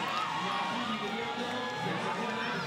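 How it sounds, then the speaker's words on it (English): A crowd at the Villars 2023 lead climbing finals cheers and shouts steadily in support of a climber, a continuous roar of voices with no gaps. "Lots of support from the crowd as he starts to go left."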